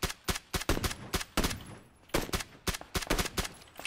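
Rapid gunshots in the battle-royale game PlayerUnknown's Battlegrounds, a dozen or so sharp, loud reports in quick irregular bursts, alone without talk.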